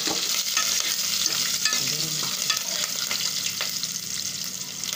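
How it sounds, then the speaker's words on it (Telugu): Seasoning seeds, curry leaves and chopped green chillies tempering in hot oil for egg pulusu: a close, continuous crackling sizzle with scattered pops and a few spoon scrapes, steady throughout, with no talking. "వన్ టీ స్పూన్ పోపు గింజలు వేసుకోవాలి। రెండు రెబ్బల కరివేపాకు వేసుకోవాలి। కట్ చేసిన రెండు పచ్చిమిర్చి వేసుకోవాలి।"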